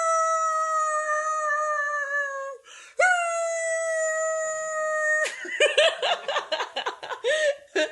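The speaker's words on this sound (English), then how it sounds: "I'm going to see if I can make my dog bark." Two long, wavering howls sound up close, each sustained for several seconds. A burst of choppy laughter-like yelps follows.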